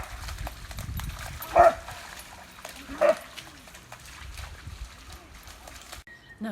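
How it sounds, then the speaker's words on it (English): An English Springer Spaniel gives two short barks or yips with gaps between them, moderately close, over low rumbling background and faint voices. "I'm going to introduce you to Ziggy, my English Springer Spaniel"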